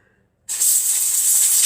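A sudden, loud, sustained hiss of spray blasts sawdust off a sewing machine presser foot, starting abruptly after a brief silence and continuing without pause.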